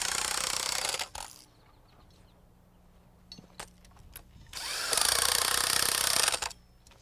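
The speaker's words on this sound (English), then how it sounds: "I like to tighten them down with an impact wrench." An impact wrench drives nuts down onto mud sill bolts in a wood-frame house floor, with two loud, sustained hammering bursts about a second or more long, separated by quieter handling clatter.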